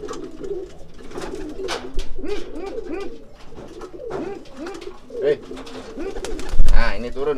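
Pigeons coo repeatedly in soft, rolling bursts close by, while someone talks over them throughout.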